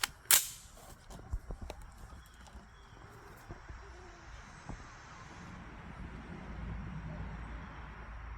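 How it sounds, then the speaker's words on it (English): A single sharp rifle shot cracks out loud and close early on, followed by a few fainter knocks and clicks over a quiet outdoor background, during a three-shot group test while zeroing a Monstrum Marksman 1x20 micro prism sight. "We're doing a 3-shot group."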